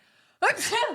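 A single sharp, close sneeze bursts out after a brief quiet moment, loud and breathy.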